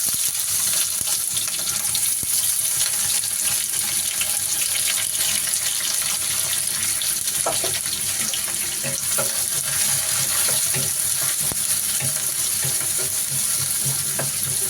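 Curry leaves and mustard seeds frying in hot oil in a home kitchen, a steady loud hiss and crackle running unbroken throughout.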